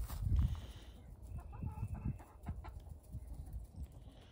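A rooster gives a few low clucks amid farmyard rustling and shuffling, with brief animal sounds scattered over the quiet background.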